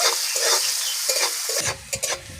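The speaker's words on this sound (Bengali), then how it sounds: "কুচিয়ে রাখা পেঁয়াজটা দিয়ে দেবো। পেঁয়াজটাকে হালকা করে ভেজে নেব।" Chopped onion frying lightly in oil, a bright sizzle broken by spoon scrapes and a few knocks against the pan near the end.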